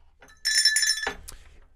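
A bright bell rings once as a round-style segment marker on a talk show, a sharp metallic ring of about half a second that fades quickly into a faint low tail.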